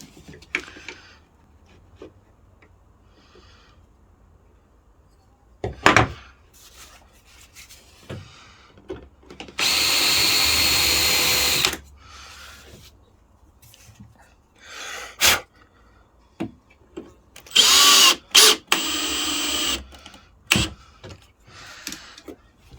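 A power drill drives screws into a wooden drawer during a bedroom furniture fit, heard as a sustained whirring burst of a couple of seconds, then several shorter zips and bursts among quieter handling noises.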